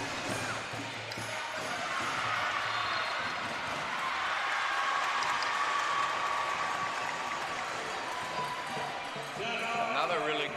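Crowd at an under-18 national basketball gold medal game between NSW Metro and Queensland South roars loudly and steadily, with cheering and clapping filling the arena and a commentator talking over it.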